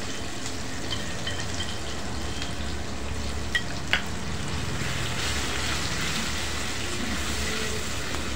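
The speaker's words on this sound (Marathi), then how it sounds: "आता हा आपण परतून घेणार आहोत छान." Fine masala paste frying in hot oil with chilli powder for a cashew curry, giving a steady, dense sizzle throughout with a couple of faint clinks from stirring.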